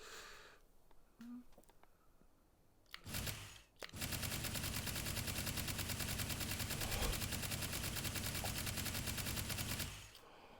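Heavy SMG in the video game Hot Dogs Horseshoes & Hand Grenades fires one long, steady automatic burst of about six seconds, preceded by a couple of sharp shots and a quiet stretch.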